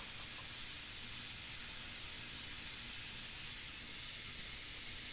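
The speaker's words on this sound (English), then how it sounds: "I'll go ahead and put more water. And I'll spray that out." An airbrush sprays clean water through to flush out India ink, giving a steady, close, broadband hiss that runs unbroken for the whole stretch, with no voices.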